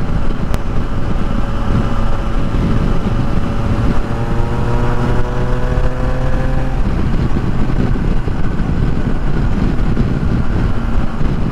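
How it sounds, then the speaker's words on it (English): A Triumph Tiger 660 Sport three-cylinder motorcycle exhaust drones loudly and steadily, its pitch rising and falling in stepped tones as the bike runs through the gears, with heavy wind noise over it. "I do like the way this exhaust sounds."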